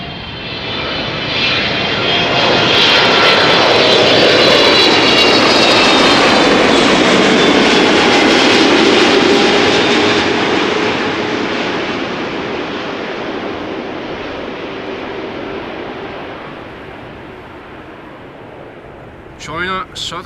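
A China Southern Cargo Boeing 747 arriving at Amsterdam Schiphol on a summer evening roars loud and steady with jet engine noise, swelling to a peak mid-pass and then slowly fading as it moves away, with a few brief sounds at the end.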